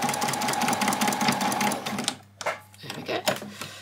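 A sewing machine runs a quick rapid stitching burst on a doll's dress, then slows into a few short separate back-stitch pulses, close and clear, with a voice talking over it.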